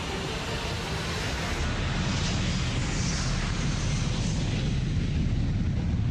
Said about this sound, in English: At 12:42 in the morning, local time, Malaysia Airlines Flight 370 leaves the runway.